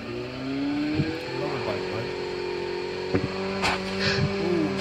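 Motorbike engine in the video game Call of Duty Mobile, a steady droning hum that rises and falls in pitch as the bike rides along, with a few sharp knocks and bursts layered over it.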